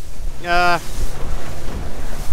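Strong coastal wind at Barwon Heads buffets the microphone in a steady, loud roar, with a brief tonal call cutting through near the start and low rumbling gusts continuing throughout.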